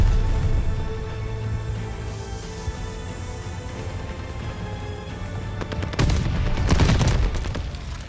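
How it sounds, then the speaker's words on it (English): Battle noise from a Call of Duty Vanguard team deathmatch on the Hotel Royal map: a steady low rumble of distant gunfire, then a louder, sharp burst of rapid minigun fire near the end. "I shot a minigun at your fucking face, mate."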